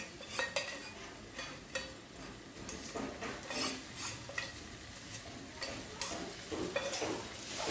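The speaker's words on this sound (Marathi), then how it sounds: "व्यवस्थित मिक्स करून घ्यायचं आहे" A spoon stirring masala into mutton gravy in a pan: repeated scraping and clinking strokes in an uneven rhythm over a faint sizzle, close and fairly quiet, with no talking.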